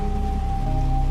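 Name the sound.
rain falling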